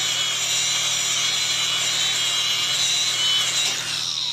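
Stick welding a vertical-up joint with a 7018 electrode gives a steady, dense crackling hiss, continuous and close throughout, with no talk.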